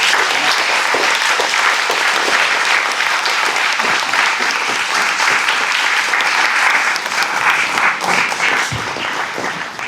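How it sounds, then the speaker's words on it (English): Audience applauding panelists at a talk on Door County musicians, steady dense clapping filling the room for the full stretch, tapering slightly near the end. "Please give a round of applause for our panelists."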